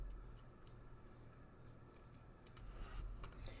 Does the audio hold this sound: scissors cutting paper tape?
yes